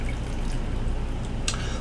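Water from a pot of leeks drains in a steady, close trickle with faint dripping, a continuous wet splashing that runs throughout with a brief brighter splash near the end.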